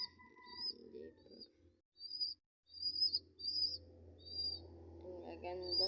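Pigeons, a parent pair with their chick, giving soft low coos and murmurs close by, while higher chirps and tweets from other birds come and go, and a faint hum builds toward the end.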